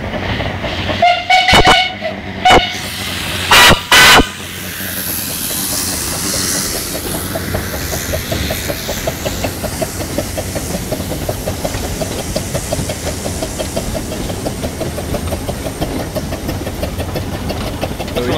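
A steam locomotive with a screw reverser starts off, with sharp bursts of hissing steam and clanks early on, then a rhythmic chuffing and rolling rail noise building steadily.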